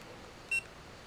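A single short electronic menu beep from a GitUp Git1 action camera, one clean high tone alone over quiet background hiss.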